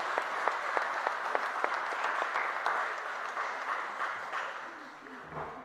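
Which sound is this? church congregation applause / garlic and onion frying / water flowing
church congregation applause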